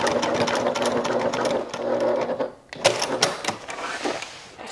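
Rapid mechanical whirring and clatter of a sewing machine stitching a crossbody bag, running in two close bursts separated by a brief pause.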